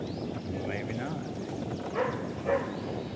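A very vocal dog barks about half a mile away across Weiss Lake during a bass fishing tournament. There are a few faint, distant barks with yips under steady outdoor background noise.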